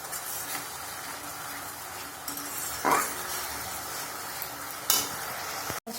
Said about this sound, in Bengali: এবার এটা ভালো করে কষাবো ব্যাস কষাতেই হবে